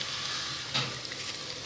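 Gram flour (besan) roasting in a pan with mixed vegetables for a masala sabzi gives a steady sizzle and crackle, with a brief stirring scrape near the middle, close and alone.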